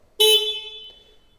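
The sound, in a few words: horn of a Triumph Trident 660 motorcycle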